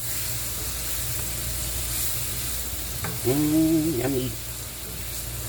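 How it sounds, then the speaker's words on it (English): Chopped onion sautéing in butter in a pan for au gratin potatoes, a steady close sizzle running throughout, with a person's brief remark in the middle. "Onions smell so good, especially when they're sauteed in butter"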